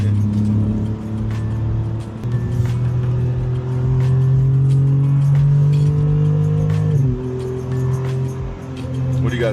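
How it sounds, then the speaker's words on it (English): A 2026 BMW M2 accelerating on a wet road, its engine note loud and close as revs climb steadily through a gear before a shift drop, then building again, with road and tire noise underneath. "I'm gonna try to give you guys a little acceleration in the M2"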